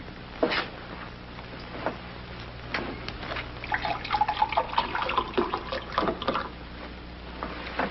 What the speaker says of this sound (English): Would you pour some water in here,